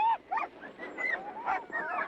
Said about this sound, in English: The timeless tradition of dog mushing is still a common practice here in Tanana.